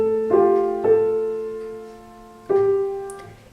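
A piano plays a bar from an easy tutorial piece: a few clear, close notes and chords struck at an unhurried pace, each left to ring and decay, with no talking.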